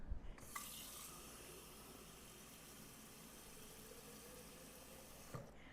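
Water runs steadily from a kitchen tap while shakshuka is being prepared, a continuous, fairly faint broadband rush lasting several seconds with a soft start and stop, no talking.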